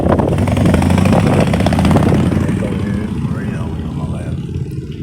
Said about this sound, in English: People out motorcycle riding.